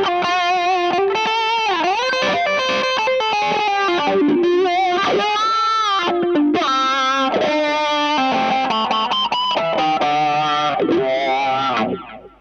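An electric guitar played through a CryBaby wah pedal with echo and distortion, sweeping, wailing lead notes and bends filling a loud, continuous phrase before cutting off at the end.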